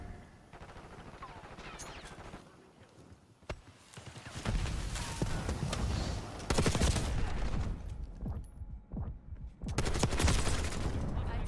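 Full-auto LMG fire in a Call of Duty match, with rapid bursts of gunfire and explosions, loud and dense, over game ambience, with some talk in the background.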